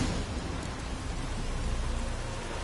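Steady rain falling in the fantasy video game The Witcher 3: Wild Hunt, a dense, even hiss of rainfall with a low rumble beneath, continuous throughout and with no voices.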